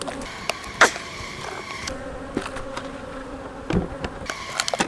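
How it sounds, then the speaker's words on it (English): Bees buzz around an Apimaye nuc beehive, a steady close drone with individual insects zipping past the microphone and occasional bumps and knocks from the hive, with no talking. "And these bees need to go back home where they came from."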